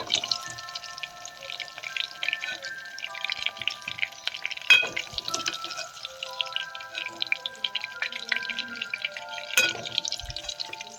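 Whole onions fry in hot oil, crackling and popping close by with a thin, bright sizzle, broken by a couple of sharp knocks of a utensil.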